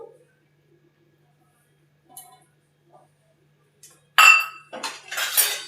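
A kadai handled as ghee is added, with a few faint metallic taps early on followed by a louder burst of clinking and scraping metal, close by and uneven.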